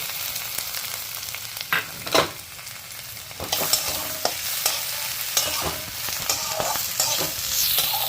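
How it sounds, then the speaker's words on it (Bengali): Washed kalai dal is stirred and fried in a pan with dry chili, bay leaf and five-spice, producing a close crackling sizzle broken by repeated scraping and stirring strokes at an uneven pace. "তেজপাতা আর একটু 5 ফোড়ন দিয়ে যে ডালটাকে ধুয়ে রেখেছিলাম সেই ডালটা এবারে আমি এতে খুব ভালো করে"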